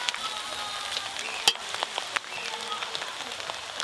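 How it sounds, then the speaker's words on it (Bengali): Vegetables frying in a hot pan for a home-cooked Bengali fried rice meal, giving a steady broadband sizzle with scattered crackles and one sharper pop, close and continuous with no talking. "সবজি ভাজা"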